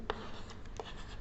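Handwriting on paper during a maths lesson on linear equations, soft and close with a couple of sharper pen taps against steady background hiss.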